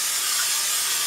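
Olive oil sprayed into a hot pan, a brief steady hiss close by with no other sound.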